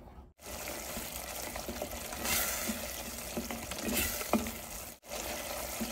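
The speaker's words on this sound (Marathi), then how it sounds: "या ठिकाणी हा मसाला छानपैकी परतून झालेला आहे." Spice masala sautéing in a pan for a bottle gourd curry made without onion or garlic, a soft, fairly quiet continuous sizzle with faint stirring sounds, briefly cut off twice; no speech.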